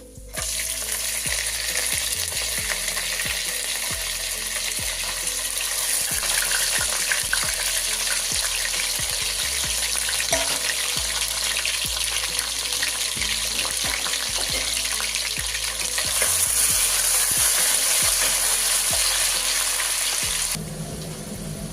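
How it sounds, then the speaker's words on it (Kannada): Soaked chana dal and urad dal fry in hot oil with a continuous loud sizzle and occasional stirring scrapes, steady for about twenty seconds before easing off at the end, with no voices. "ತೊಗರಿಬೇಳೆ ಅಲ್ಲ ಕಡಲೆಬೇಳೆ, ಉದ್ದಿನಬೇಳೆ ನೆನೆಸಿಟ್ಕೊಂಡಿರೋದು ಹಾಕ್ತಾ ಇದ್ದೀನಿ"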